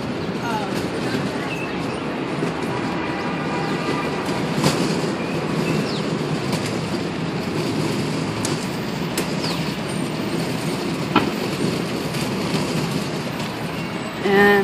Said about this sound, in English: 72nd Street subway.